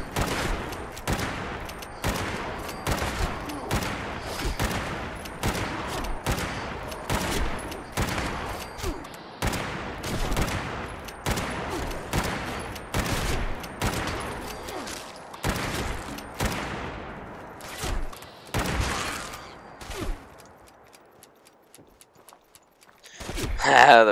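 Lever action rifle firing in Fallout 76, a long run of loud, evenly paced shots, close and punchy, that thins out and stops near the end, followed by a quiet reload and a short voice.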